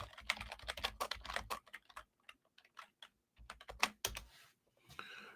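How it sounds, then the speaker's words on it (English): Rapid bursts of keystrokes on a computer keyboard as a Bible verse reference, Jeremiah 17:5, is typed in, close and crisp, with a short pause midway before another quick run of clicks; no voices. "So I'm going to type it in."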